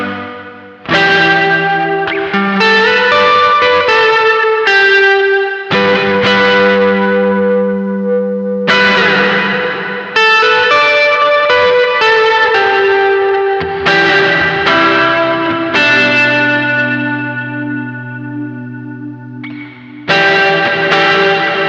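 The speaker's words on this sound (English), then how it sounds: "as we turn that feedback control up, we're going to get a larger and larger reverb" Guitar played through a Matthews Effects The Traveler pedal with its feedback turned up for a large reverb: loud, distorted chords and notes that swell and ring out in long, echoing tails, each new strum layered over the fading wash.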